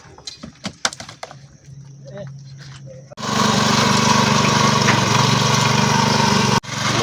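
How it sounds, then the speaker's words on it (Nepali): After a few scattered knocks and a low hum, a small field-tilling machine engine roars to life and runs loud and steady, cutting off abruptly at the end. "यस्तो मिसिनले युज गरेर चाहिँ खेत जोत्न सकिन्छ"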